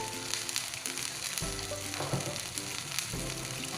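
Sausages and meatballs sizzle loudly in a pan while capcay is cooked, a continuous dense frying hiss with occasional stirring scrapes and no one speaking.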